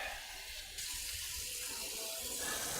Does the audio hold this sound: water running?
yes